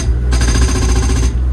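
A hydraulic breaker hammer on an excavator, fired into open air, hammers in a fast, loud, rapid-fire burst of about a second over the deep rumble of the machine's engine, then stops.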